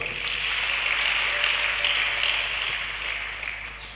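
A church congregation applauds its pastor with a dense, steady wash of clapping that fades gradually over four seconds. No voice stands out above it.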